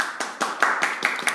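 A few hands clapping in a quick, regular rhythm, around seven sharp claps in close succession, fairly near and alone.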